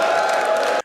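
A crowd cheering and whooping with scattered applause, steady and fairly loud for under a second before cutting off abruptly.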